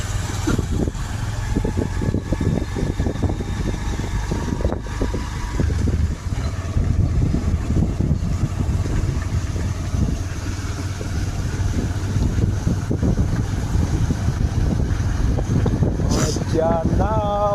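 A motorbike rides along a forest road with its low engine drone running steadily under heavy wind buffeting across the microphone, and a voice speaks over the ride.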